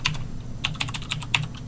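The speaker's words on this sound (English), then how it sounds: "He's busy typing." Quick bursts of clicking keys on a computer keyboard, several irregular clusters of sharp taps close to the microphone with short pauses between them.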